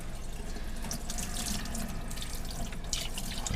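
Water runs steadily from a kitchen tap while food is rinsed, a continuous close, even splashing rush with no talk.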